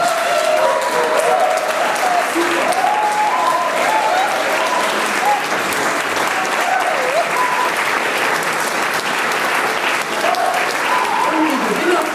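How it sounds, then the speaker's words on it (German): An audience at the hülsta woodwinds 2014 competition applauds the finalists with sustained, full clapping throughout, while voices and cheers rise faintly over the ovation. "diesen Finalisten gebührt ein großer Applaus"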